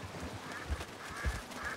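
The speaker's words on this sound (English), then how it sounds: "Ducks." Ducks quack in the Red Dead Redemption 2 game world, a few faint, moderately distant calls spaced out over low ambient noise.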